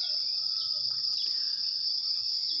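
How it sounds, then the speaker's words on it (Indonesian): Crickets chirp in a steady, continuous, shrill trill beside a small flowing river outdoors, with the water and faint background noise below. "ada sungai kecil yang mengalir bersama dengan bunyi jangkrik yang bertasbih pada Sang Maha Kuasa"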